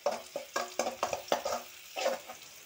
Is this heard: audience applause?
no